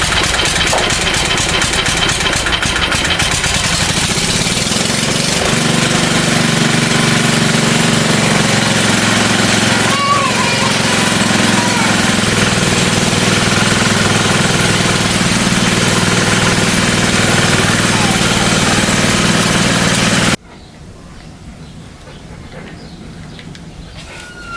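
An old Bernard engine, long unused, runs steadily at idle with a continuous loud mid-pitched drone and faint knocking, then cuts off abruptly near the end, leaving quieter background.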